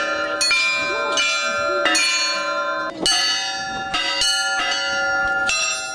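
Easter church bells ring in a steady, overlapping peal, clanging repeatedly and loudly with rich lingering tones.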